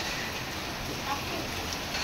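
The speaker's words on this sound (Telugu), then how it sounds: "ఇంకా వాన చూడండి ఫుల్గా పడుతూ ఉంది వర్షం అయితే" Constant hiss of heavy rain pouring down, an even, close wash of falling water with no pauses.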